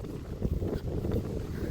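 Strong wind gusts buffet the microphone outdoors in the Lao countryside near water, producing a steady low rumbling roar that swells and dips throughout.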